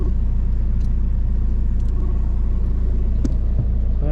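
A jeep engine rumbles close by in a steady, low drone that stays even throughout, with a few faint higher clicks over it.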